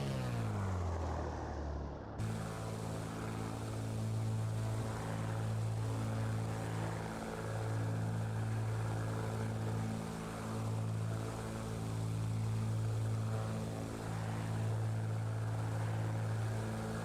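A Black Square Bonanza propeller engine in a flight simulator drones loud and steady, with strong tonal harmonics that settle after a short rising spin-up at the start, then hold an unbroken hum with slight throbbing swells.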